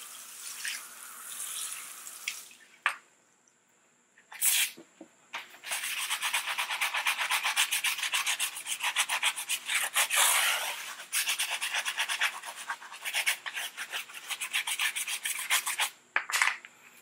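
A new brush scrubbing a car wheel rim, a dense, rapid rasping scrub that runs almost continuously in close, loud bursts, with brief pauses between passes.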